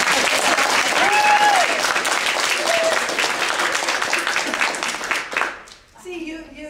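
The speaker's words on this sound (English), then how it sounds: "she does deserve an applause" An audience claps loudly in a dense, steady burst during a talk about the Fight for $15 in Seattle, with voices calling out over it. The applause fades after about five seconds and a speaker starts talking.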